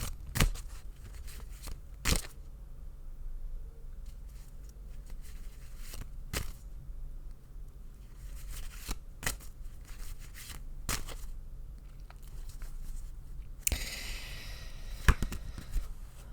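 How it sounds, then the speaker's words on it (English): Quiet, intermittent riffling and sharp snaps of tarot cards being shuffled by hand, with pauses between bursts and a faint hum underneath. "I'm going to shuffle until Spirit asks me to stop"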